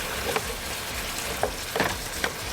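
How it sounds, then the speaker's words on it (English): Tofu and onions fry in a pan with a steady, even sizzling hiss and a few soft, sparse pops or taps from the pan, moderately loud and close. "I just wanted to show you guys how to fry tofu."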